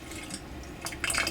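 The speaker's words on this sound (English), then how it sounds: "so you just basically reduce the water to the level you need" Water is poured off a pot of cooking rice to bring it down to the needed level, a close, steady splashing and trickling that turns brighter and more broken in the last moments.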